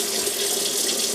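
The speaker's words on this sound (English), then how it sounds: "we'll give it a final rinse" Water running steadily from a tap to rinse a large specimen after trimming, a continuous hissing splash with no talk.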